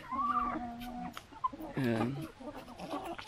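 A farm rooster gives short clucks and a drawn-out call at close range, with someone talking to it in between.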